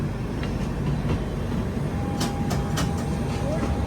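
A passenger train on the Hyderabad to Jodhpur run pulls away with a constant low rolling rumble, a thin sustained whine, and a few sharp clanks near the end.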